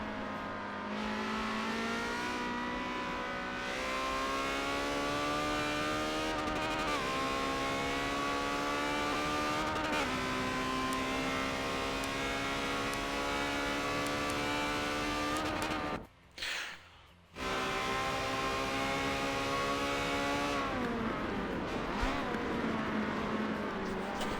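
A Ferrari 360 Challenge Stradale race car engine at Mugello circuit howls at high revs in a sustained, loud scream, pitch climbing and dropping through gear changes with one brief lift around the middle, no talking.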